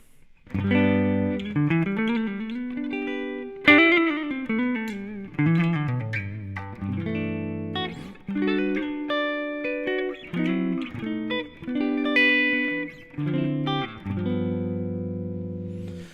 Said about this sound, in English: one being a clean one and the other one being an overdriven amp sound